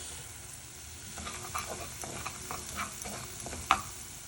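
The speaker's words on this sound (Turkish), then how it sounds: "Evet soğanlarım ve unum kavruldu." Onions and flour sautéing in a pot, a steady close sizzle with soft stirring scrapes and one sharper clink near the end.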